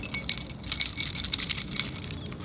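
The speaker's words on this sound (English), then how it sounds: "Removing my keys." A bunch of keys jangles as it is pulled from a pocket, giving a close, busy run of metallic clinks and rattles for a couple of seconds with no speech over it.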